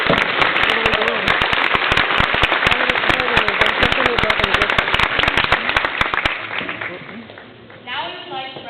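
An audience at a cadet commissioning ceremony breaks into loud, sustained applause, dense rapid clapping that carries for several seconds before thinning out and fading, with a voice over a sound system near the end.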